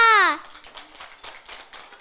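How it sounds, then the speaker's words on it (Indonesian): A brief high-pitched voice fades into light, scattered clapping from a small group at a kindergarten children's performance, soft and uneven for a couple of seconds. "Beri tepuk tangan yang meriah untuk Ayura."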